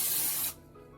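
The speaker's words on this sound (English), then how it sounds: "I'm going to spray it with my palm. Just to get it coated with palm spray." A short burst of palm oil cooking spray onto a baking dish, hissing loudly for about half a second, then cutting off abruptly into near quiet.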